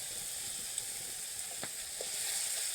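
Onions frying with ginger-garlic paste give off a soft continuous sizzle in a pan, with a couple of faint clicks from stirring, steady and close.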